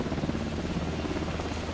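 A helicopter in the video game Alan Wake 2 drones with a low, steady rotor rumble, fairly faint and continuous, with no talk over it.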